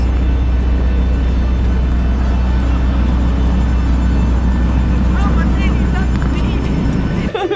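Steady loud low rumble of a passenger airplane cabin after landing, engines still running, with a constant drone filling the whole stretch and people talking faintly over it near the end.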